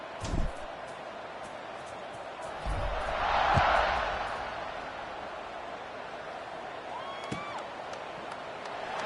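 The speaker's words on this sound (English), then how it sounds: "this crowd is feeling themselves after that last drive" Stadium crowd noise from a college football video game, Clemson versus LSU, a steady roar that swells briefly in the middle of the stretch, with a few thuds and some background commentary.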